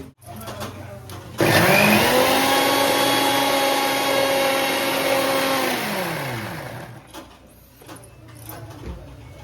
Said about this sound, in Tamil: இப்போ பார்த்தீங்கன்னா மிக்சியில் போட்டு அரைக்க போகிறோம். சவ் சவ்வையும் அந்த மசாலாவையும்.